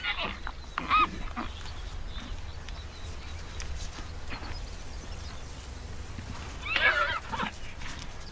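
In a wild herd in an arid Asian desert, a horse neighs briefly near the start and again more loudly near the end, over a low, steady outdoor background.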